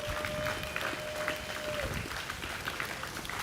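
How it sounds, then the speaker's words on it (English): Audience giving a round of applause at an aviation school guest speaker event, moderate steady clapping throughout, with a brief tonal whine early on. "if you guys can give them a round of applause"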